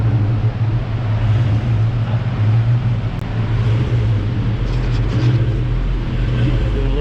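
A 1967 Ford Mustang engine runs on a dyno, a loud, steady low droning hum that holds nearly constant throughout without clear revving.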